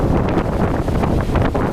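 Strong winter wind buffets a handheld camera microphone outdoors, producing a loud, continuous, rumbling roar with no pauses.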